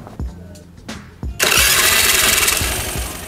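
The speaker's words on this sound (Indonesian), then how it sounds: "Kita langsung starter motornya. Kalian dengerin suara starternya sehalus apa." Several short cranking thumps from a racing electric starter on a carbureted Honda Vario scooter, then the engine catches and roars into a loud, steady running rumble.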